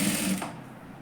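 A sewing machine stitching the side seam of a katori blouse, a short close whirring run that fades out within a second, with no speech.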